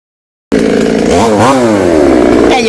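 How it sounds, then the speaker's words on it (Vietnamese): A chainsaw cuts through a coconut tree trunk near a fence and roadside. It starts abruptly after a brief silence, then gives a loud, close, continuous snarl that rises and dips in pitch as the blade bites. "Tiếp tục cưa cây dừa chú không ơi."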